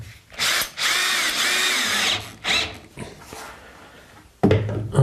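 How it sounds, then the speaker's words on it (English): Power drill driving screws into a wooden chicken coop roof, several close, loud whirring bursts of varying length with short pauses between. "these I'm just going to screw in place"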